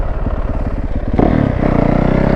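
A Yamaha YZ450F dirt bike fitted with duct-tape-wrapped tires drifts with the clutch dropped: a steady, rapid four-stroke putter that jumps into a louder, rougher revving roar partway through, close to the listener.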